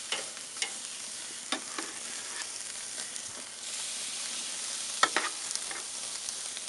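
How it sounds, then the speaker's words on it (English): Ribs searing over direct heat on a grill give off a steady, fairly quiet sizzle with scattered crackles and a few sharp pops, heard alone with no talking. "I'm going to go ahead and set these on direct heat. I'm going to give them a nice sear on all 4 sides."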